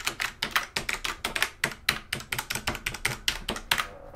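Rosewill illuminated mechanical gaming keyboard with Cherry MX Brown switches being typed on: a quick, uneven run of close, crisp key clacks, roughly five or six per second, with no voices.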